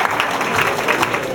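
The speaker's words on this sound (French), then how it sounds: "Je vous demande de les applaudir une fois de plus." A crowd claps in sustained applause at a martial arts demonstration, dense and fairly loud throughout the short stretch with no pause.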